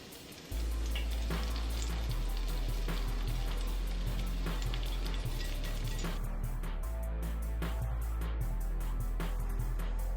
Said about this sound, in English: I'm waiting for that to get hot so that I can deep fry my ice creams